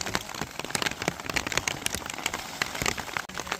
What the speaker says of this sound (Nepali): पानी पर्यो अब